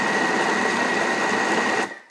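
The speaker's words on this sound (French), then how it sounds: "que je vais mettre dans mon Thermomix. Et là, je vais remélanger à petite vitesse" A Thermomix churns food at low speed with a dense, steady whirring drone and a thin high tone running through it, cutting off abruptly near the end.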